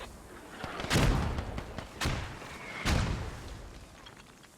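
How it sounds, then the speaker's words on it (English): Mortar shells slam down on defenders in a competitive video game match, three heavy thudding booms about a second apart over a steady background rumble. "those mortars are hitting right into the face of the defenders"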